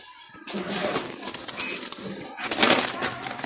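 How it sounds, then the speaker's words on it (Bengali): A wild Jalali pigeon, a red-eyed female, flutters and flaps about after release, producing bursts of rustling wingbeats and scuffling over a few seconds, close by. "ছেড়ে দেখাচ্ছি কবুতরটা"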